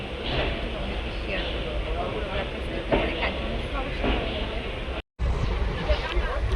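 A passenger train departed from Sealdah rumbles along with a steady roar and a faint rhythmic rattle of the carriage, heard from inside with background chatter and a brief dropout near the end.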